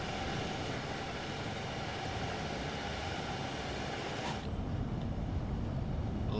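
A Southeastern High Speed Class 395 Javelin train in Train Sim World 2 rushes past with a steady broad rumble that shifts abruptly near the end, loud and without talk.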